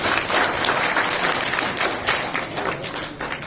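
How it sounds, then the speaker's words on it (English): Steady, dense applause from an audience at a university conference, a full round of clapping sustained at even loudness throughout with no talk over it. "A big round of applause"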